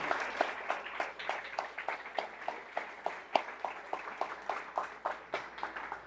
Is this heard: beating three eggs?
no